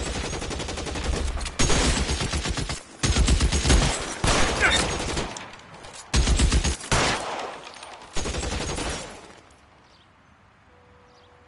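Loud, rapid bursts of gunfire in the 1940s Los Angeles crime game L.A. Noire, fired in several dense volleys separated by short gaps, close and harsh, then dropping to a quiet tail.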